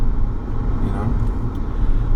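A 2001 Mercedes SL500 driving slowly through city traffic, with a steady low engine and road rumble heard from inside the car, loud and continuous, with faint traffic around it.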